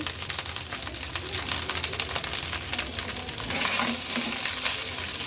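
Rice frying in a pan with Maggi masala seasoning gives a dense, steady sizzle, with stirring scrapes and clatter running throughout and growing slightly louder near the end. No one speaks.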